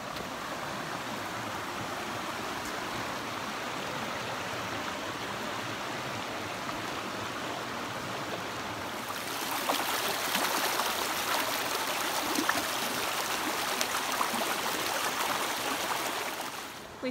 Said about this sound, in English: I love the sound of the water if I go down there. I just could never get enough of flowing water.